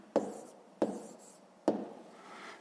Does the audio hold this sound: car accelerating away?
no